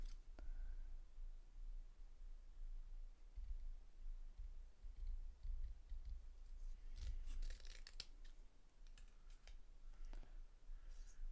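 Scissors with a slightly sticky, glue-marked blade snip paper for a Christmas craft, a few quiet crisp cuts clustered near the end over faint room hiss.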